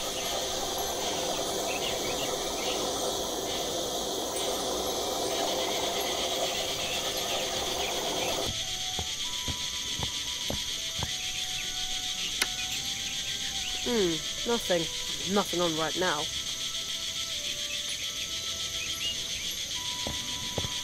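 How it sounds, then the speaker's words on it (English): A cricket chirps inside a barrel in the game The Night of the Rabbit, a steady high, thin trilling that runs throughout under background ambience, with a voice speaking briefly. "I think I can hear a cricket chirping in the barrel."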